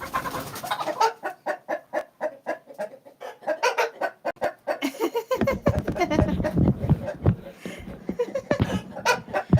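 Chicken clucking in a home kitchen setting, a run of short repeated clucks and calls close by, growing busier and denser toward the end with some background clatter.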